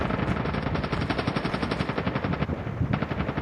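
Sustained machine gun fire in Call of Duty Mobile, a fast, even stream of shots hammering loud and close for the whole stretch.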